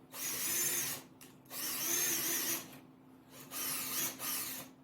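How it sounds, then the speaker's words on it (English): A power drill drives screws into a screw-together wooden planter assembly, in three sustained whirring runs close by with short pauses between them. "I'm going to put a screw that goes about 1/8 of an inch"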